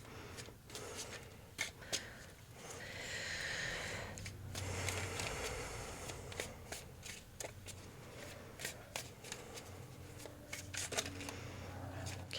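Tarot cards shuffled by hand for a card reading give soft, close riffling and flicking, with irregular clicks and snaps across a quiet room.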